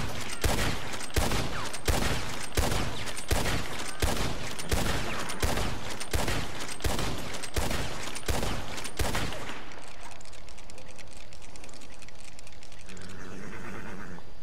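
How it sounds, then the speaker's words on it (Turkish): Rifle fire in the video game Red Dead Online: a steady run of about a dozen loud, evenly spaced gunshots, then quieter handling and reloading sounds. "Şimdi atış testimizi yapalım."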